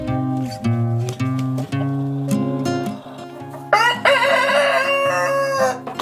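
A New Hampshire rooster crowing loudly and close by, several rising, drawn-out calls in sequence with a brief shift to a brighter, strained cry near the end, no talking.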